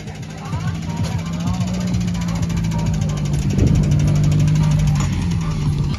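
A newly fitted engine in an autocross race car runs at a steady idle with a low, even hum and rattle, close by, and faint voices mix in at the circuit.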